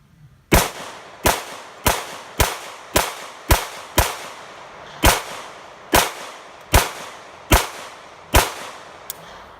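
Para Ordnance 1911 pistol in competition setup firing a hotter load: about fourteen sharp, loud shots in a steady rapid rhythm, each with a short ringing decay, outdoors with no talking.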